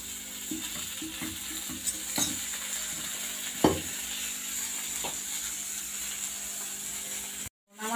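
Panch phoron spices crackle in hot oil while a small hilsa and cauliflower dish is cooked, giving a steady close sizzle with scattered pops and scraping stirs.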